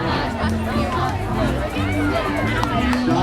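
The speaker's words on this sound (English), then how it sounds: "I think the crowd is getting excited." A pride parade crowd chatters and cheers steadily in a dense outdoor hubbub, with voices close by and a continuous babble throughout.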